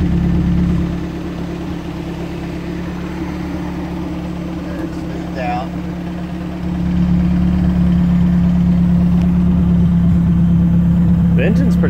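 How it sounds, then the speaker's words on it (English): A modified 1985 Dodge Omni GLH engine idles steadily with a low hum, faint clicking of big fuel injectors ticking above it; the engine note rises slightly partway through. "You hear some clicking, but that's the fuel injectors."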